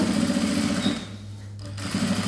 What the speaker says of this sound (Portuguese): E eu venho aqui, ó, e passo essa costura de rebatido